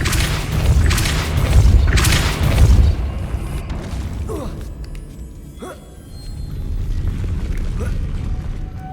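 A Depulso force spell cast in Hogwarts Legacy lands as a couple of loud, rumbling magical blasts early on, then fades into quieter ambience with a voice speaking.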